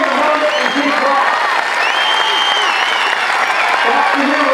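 A large crowd applauds and cheers at an Air Force basic military training graduation parade. The clapping is loud and continuous, with whoops and whistles rising over it and a voice talking over the noise.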